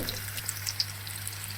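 Curry leaves drop into hot oil for a Telugu fish curry, giving a soft, steady crackling sizzle with a few sharp pops, faint and close, with no talking.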